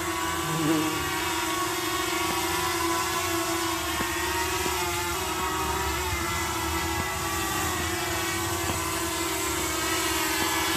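A camera drone hovers and flies above a vegetable garden, its steady motor whine continuous and fairly loud throughout, with faint voices occasionally under it.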